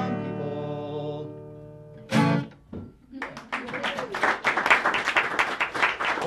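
A comedy show audience breaks into clapping and applause: a brief tonal passage, a short burst of claps, then steady, dense applause that builds and carries through to the end.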